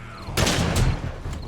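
Gunfire from the zombie survival game 7 Days to Die erupts as loud, dense bursts of shots, with a heavy crack near the start and another close behind, sustained over a low rumbling game background.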